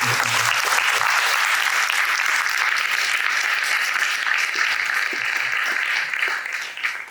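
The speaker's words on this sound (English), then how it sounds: "A big round of applause for this song." A dense, sustained round of applause from an audience after a song at a spiritual talk in Sydney. It stays steady and full throughout and thins slightly in the final moments.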